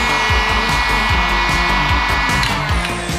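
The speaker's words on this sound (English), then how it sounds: "I'm going to take the heat gun and then lay this there" Heat gun blowing hot air onto a piece being bent into shape for a custom part on a Toyota 4Runner, a steady, loud, close whooshing roar that continues throughout.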